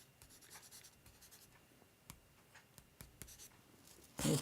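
Graphite pencil shading on paper in circular motions, a soft continuous scratchy rasp with faint repeated strokes and a few sharper taps, close and quiet, ending in a louder brushing burst.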